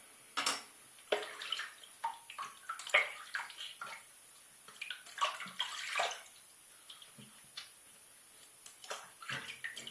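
Running tap water splashes in irregular bursts as a face is rinsed off after a shave, close and fairly quiet with intermittent gurgles.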